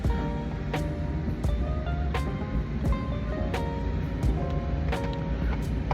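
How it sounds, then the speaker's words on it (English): A car's air conditioning blows loudly as a steady, broad whooshing roar with faint clicks and thumps scattered through it. "I'm gonna turn the AC off so it's too damn loud"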